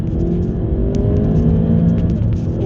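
A black Audi A1 S Line 1.4 TFSI with S tronic gearbox and 185 bhp accelerates hard on an open road, its engine a loud, steady rising drone with road rumble and no pauses.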